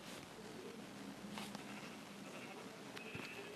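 A few faint sheep bleats come from Minecraft's blocky livestock, short and scattered against a hissy, noisy background at low volume.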